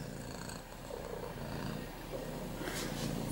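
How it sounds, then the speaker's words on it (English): A content cat purrs softly and steadily up close, a low rhythmic rumble that stays faint and even before a brief louder noise at the end. "You're a happy cat, eh?"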